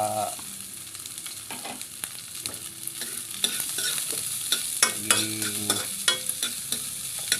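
Ginger and onion for tinola fry in hot oil with a bright, continuous sizzle and repeated spatula scrapes and taps, close and with no voices.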